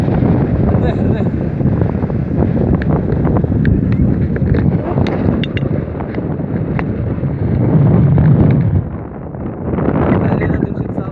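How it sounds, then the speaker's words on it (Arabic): Strong wind buffeting the microphone outdoors on a coastal bicycle trip near Sidi Kaouki, a loud continuous rumbling roar that holds for the whole clip, briefly dropping near the end, with people talking faintly underneath. "والريح الريح الريح"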